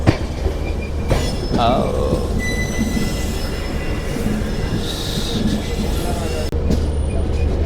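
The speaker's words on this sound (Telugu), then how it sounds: "ఇది ఎలక్ట్రిక్ లోకోమోటివ్." An electric locomotive in a rail shed rumbles loudly and steadily, with squealing wheels and metallic screeches over a constant low drone.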